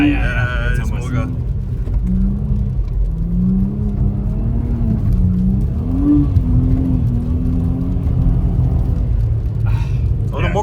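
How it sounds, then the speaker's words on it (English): An Audi RS4 B5 drifting sideways on snow, its engine a steady droning rumble with rising and falling pitch as the throttle varies, heard from inside the car while people talk. "You have to fight the car to go sideways, otherwise it will just understeer."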